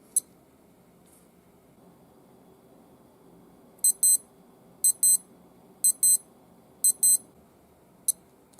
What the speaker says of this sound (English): The watch has an alarm.